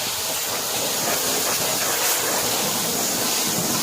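A water spray rinses a car engine bay around the turbo and air filter, giving a loud, steady broadband hiss that stays constant from start to finish, with no voices.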